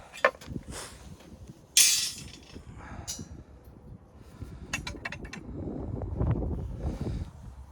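Gusty wind at a construction site buffets the microphone in uneven surges, joined by scattered metallic clangs and clinks from rebar work nearby.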